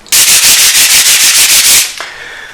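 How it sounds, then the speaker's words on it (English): Excess CA glue is sanded off a woodworking inlay with 220 grit sandpaper: loud, close, rapid rhythmic scratching strokes that run steadily for under two seconds, then stop abruptly. "I've gone back and sanded off the excess glue with some 220 grit sandpaper"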